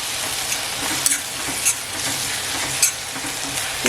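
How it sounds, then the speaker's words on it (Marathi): Bombay duck keema being stirred in an iron kadhai, a steady close sizzle with wet frying hiss and a few sharper scraping strokes of the spatula against the pan. "हे हलवत राहायचं जेणेकरून पाणी आहे ना ते लवकर सुकावं म्हणून हे हलवत राहायचं"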